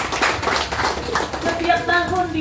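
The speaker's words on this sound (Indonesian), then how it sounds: "Tepuk tangan dulu sama Pak Mansur." Audience at a village outreach meeting claps in a steady burst of applause for an honored guest, with a voice rising over the end.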